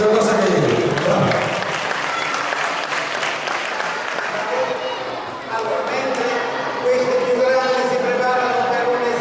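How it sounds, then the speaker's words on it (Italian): A crowd at a youth artistic gymnastics display in Ascoli Piceno applauds loudly and continuously, with voices talking over the clapping as it carries on. "merita un applauso questa cosa che hai detto"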